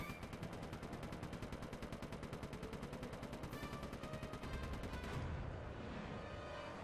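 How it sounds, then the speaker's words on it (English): Rapid, sustained machine-gun fire from aerial shooting in the video game Sly 3: Honor Among Thieves, a loud regular stream of shots for about five seconds before it cuts off. "I haven't been paying attention to who all I've been shooting at all."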